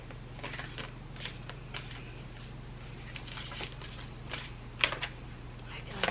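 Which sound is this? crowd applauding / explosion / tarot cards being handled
tarot cards being handled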